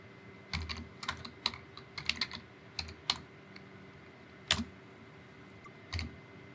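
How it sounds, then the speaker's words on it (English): Keys clacking on a computer keyboard in irregular bursts of quick taps with short pauses, close and fairly quiet, no voices. "Now I'm going to type"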